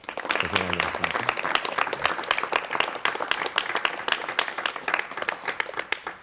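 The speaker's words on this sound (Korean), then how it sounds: "여러분 박수로 맞이해 주시면 대단히 고맙겠습니다" A studio audience on a 1987 KBS talk show breaks into sustained, dense applause welcoming gayageum composer and Ewha Womans University professor Hwang Byung-ki, the clapping steady and loud throughout, with a brief voice near the start.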